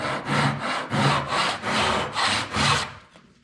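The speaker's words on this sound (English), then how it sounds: "Saw a little notch on the front edge, then on the back edge." A hand saw cuts a notch in wood for a tenon in about six steady back-and-forth strokes, close and fairly loud, ending as the sawing stops.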